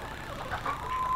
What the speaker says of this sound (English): There's one of them hens right there to drive you up the wall.